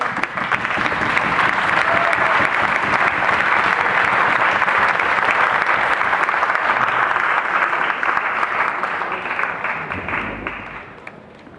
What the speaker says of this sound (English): Let's give the teams another round of applause.